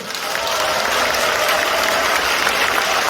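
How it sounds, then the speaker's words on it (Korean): A crowd at a People Power Party members' training session in Gumi applauds a lawmaker, giving dense, sustained clapping that holds at an even, loud level throughout. "여기서 우리 당원동 의원님의 뜨거운 박수 한번 보내드립시오"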